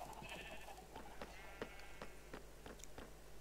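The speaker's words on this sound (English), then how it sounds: "Sheep, which produce mutton and wool." Farm sheep in a video game bleating, with a few short, distant calls over a steady background hum and faint clip-clop sounds.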